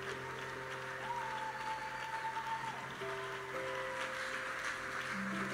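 Steady applause from a church congregation, a dense even patter that holds at moderate loudness throughout, with sustained keyboard tones playing beneath.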